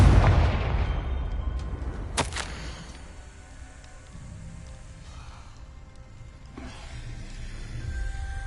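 Confringo blasting curse explosion in Hogwarts Legacy: a loud burst at the start, then a sharp crack a couple of seconds later with a rumbling tail fading into quieter game ambience.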